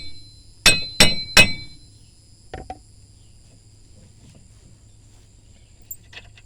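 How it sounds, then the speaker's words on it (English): Three quick metallic hammer taps seating a new wheel bearing into the steering knuckle of a 2014 Kia Forte, close and sharp, followed by a couple of faint clinks over a low hum. "Just gonna lightly tap on it, just to seep it in some."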